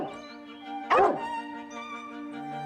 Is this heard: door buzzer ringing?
no